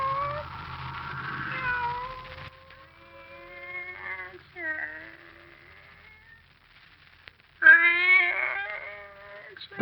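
A cat meows repeatedly in a radio drama scene, drawn-out, plaintive wails at close range, some rising into caterwauling, with a louder burst near the end.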